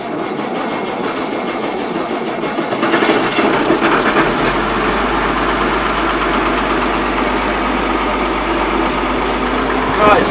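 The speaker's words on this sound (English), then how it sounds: "I'm going to do a cold start on the 70-20." An Allis Chalmers 7020 tractor diesel engine cranks and fires in a cold start, then settles into a loud, steady idle with a rough rumbling clatter, close by.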